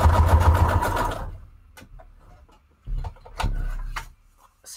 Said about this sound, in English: And I'm sewing as I go.